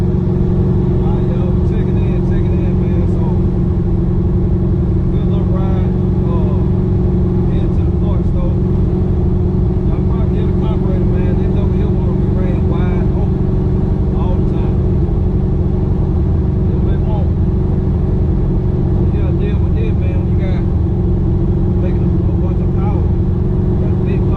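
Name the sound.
Chevy box car driving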